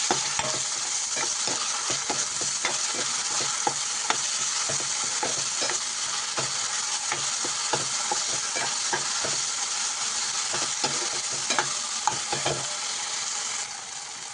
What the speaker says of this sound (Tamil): இஞ்சி பூண்டு பேஸ்ட் எல்லாம் அரைச்சி வச்சிருக்கோம்னா அது உள்ளே தட்டிக்கலாம் அதை தட்டி நல்லா கிண்டிக்கலாம்